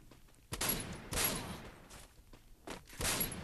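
Gunfire in the battle royale video game Free Fire: several sharp, loud shot bursts at irregular intervals, with quieter game ambience and faint steps between them.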